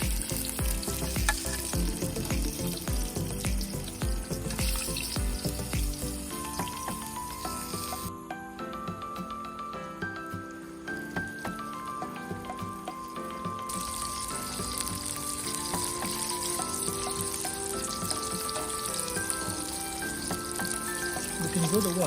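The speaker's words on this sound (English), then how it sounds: "Now the fish and the chalpak has to cook on a high fire, so that's why you see it boiling." Fish and chalpak dough deep-frying in hot oil over a high flame, with a loud, constant bubbling sizzle that runs throughout and steady tonal sounds faintly mixed underneath.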